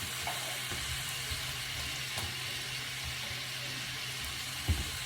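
Velveeta cheese dip stirred into browned beef and melting cream cheese in a hot pan, giving a steady close sizzle with soft stirring scrapes throughout and one brief clatter near the end.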